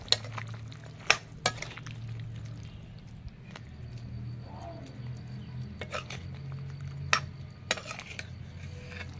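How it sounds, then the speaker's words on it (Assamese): Potatoes being mashed into chicken curry gravy in a pot: scattered sharp clinks of a utensil against the pot between quieter scraping, over a low steady hum. "এতিয়া মই আলুখিনি অকণমান ভাঙি দিম গ্ৰেভিখন ডাঠ হ'বলৈ।"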